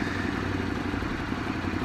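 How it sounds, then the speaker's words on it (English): A 2018 Ducati Scrambler 1100's air-cooled twin engine, two valves per cylinder, runs with a steady, fairly faint mechanical rumble and clatter throughout. "This is the older style Ducati twin engine with 2 valves per cylinder instead of 4 valves per cylinder."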